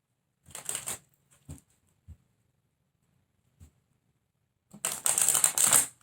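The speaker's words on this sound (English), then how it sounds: "I'm going to get a couple of Chakra Wisdom Oracle cards for you." Chakra Wisdom Oracle cards handled and shuffled close up: a brief riffle, a few soft taps and clicks amid quiet pauses, then a longer, louder flurry of shuffling at the end.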